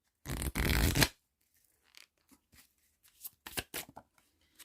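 Very thin playing cards shuffled close up in two quick riffling bursts, followed by softer scattered card handling and light taps.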